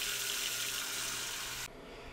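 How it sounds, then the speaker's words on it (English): Water from a tap pouring into a cooking pot, a steady hissing stream that stops abruptly near the end, moderately quiet and without speech. "Put a ton of water in it,"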